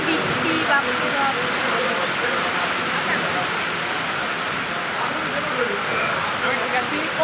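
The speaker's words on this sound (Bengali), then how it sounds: "কি বিশাল জোরসে বৃষ্টি বাবা" Heavy rain pours steadily outside a railway station, a dense continuous roar of water at an even, loud level with no gaps.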